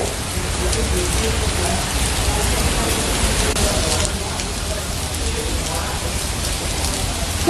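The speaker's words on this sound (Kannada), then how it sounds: "ಕಳೆದ ಒಂದು ವಾರದಿಂದ ಬಿಡುವು ಕೊಟ್ಟಿದ್ದ ಮಳೆರಾಯ ಈಗ ಮತ್ತೆ ನಿನ್ನೆಯಿಂದ ಅಬ್ಬರಿಸೋದಕ್ಕೆ ಶುರು ಮಾಡಿದ್ದಾನೆ" Heavy monsoon rain pours down in Karnataka, a dense, steady hiss of drops striking surfaces that runs without pause from start to finish.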